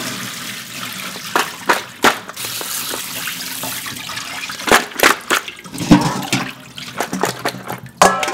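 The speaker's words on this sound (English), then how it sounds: "Drain the bones." Water drains from a pot of boiled ox bones into a sink, a continuous rushing, splashing pour with clattering knocks and gurgles, close and fairly loud.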